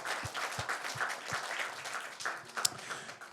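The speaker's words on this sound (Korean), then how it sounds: "제가 여러분들에게 하나님의 격려의 박수를 해주고 싶습니다." A church congregation applauds during a Korean sermon, producing a brief, moderately loud patter of clapping that fills the room, with a few sharper individual claps.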